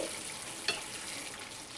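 Katla fish masala sautéing in oil over a medium flame, a steady close sizzle with a brief spatula scrape partway through; no voices.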